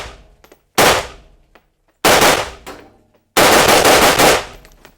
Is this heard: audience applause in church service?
no